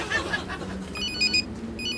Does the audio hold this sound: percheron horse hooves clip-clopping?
no